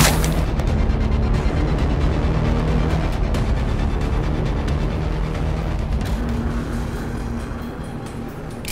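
Warhammer 40,000: Battlesector battle sounds on the Wind River Blockade mission: a dense, loud, continuous barrage of gunfire and artillery booms rumbling without pause, thick with overlapping blasts throughout.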